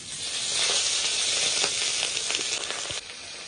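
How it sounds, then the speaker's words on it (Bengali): Tengra fish frying in hot oil, a steady dense sizzle and crackle that holds loud and even throughout, with no voices over it. "এবার মাছগুলো ভেজে নেব"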